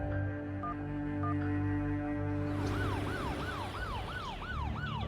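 An ambulance siren starts partway through, wailing in repeated rising-and-falling sweeps over a low background hum of traffic and hums, moderately loud and steady to the end.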